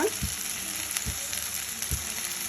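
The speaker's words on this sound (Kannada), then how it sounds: "ಇದನ್ನು ಮೆತ್ತಗಾಗೋವರೆಗೂ ಹುರ್ಕೊಳ್ಳೋಣ" Okra sizzles steadily in a pan with a little oil, salt and turmeric, a continuous close frying hiss broken by a few soft stirring knocks.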